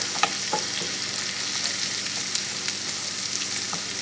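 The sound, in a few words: burdock and onions frying in a pan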